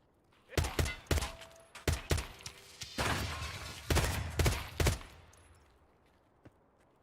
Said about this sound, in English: That sounds like Killa's RPK.